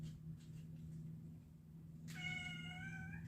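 A cat in a workshop where bait molds are made gives one clear, drawn-out meow near the end, fairly close and moderately loud, over a steady low electrical hum. Faint soft sounds come before it.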